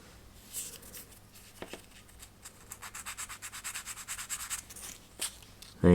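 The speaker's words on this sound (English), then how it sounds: "just go in and sand up to your edge and sand that glue back." Fine sandpaper rubs glue off the edge of a wooden ship model kit, a Vanguard Models HM Sherbourne, in close, steady back-and-forth strokes that come quickly and rhythmically, ending in a louder knock.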